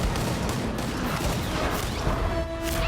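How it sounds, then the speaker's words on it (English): Gunfire aimed at the Hulk in a superhero film scene, a dense loud barrage of shots blended with crashes and rumble, heard without talk. "y'all know that bullets don't work on the Hulk"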